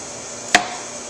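A single sharp knife chop through a pepper on a cutting board, one brief close thud against a quiet background.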